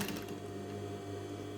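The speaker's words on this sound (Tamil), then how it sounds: "மோட்ரு ஆன் ஆகி ஒரு செகண்ட் முடிஞ்சதுக்கப்புறம் தான் நம்ம மோட்டரை ரன் பண்ணணும்" Electric sewing machine motor running steadily at a constant hum, a close, even mechanical drone with no pauses.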